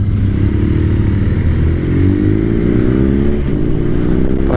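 A BMW R nineT motorcycle engine runs while riding, a close, loud throbbing drone that climbs in pitch as it revs, with rushing wind noise around it.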